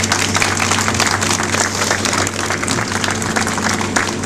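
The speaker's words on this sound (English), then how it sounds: "Let's give all of those folks a round of applause" An audience applauds at an outdoor healing garden dedication at a medical center, with continuous dense clapping from a sizable crowd that stays loud and steady throughout.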